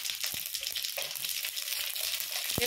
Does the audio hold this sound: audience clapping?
no